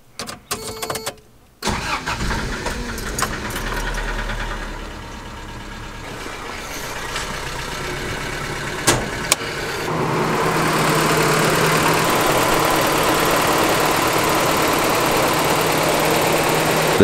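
A 1993 Toyota Pickup with about 250,000 miles cranks briefly after a few clicks, catches and settles into a steady idle, with the engine note growing slightly fuller and louder near the end.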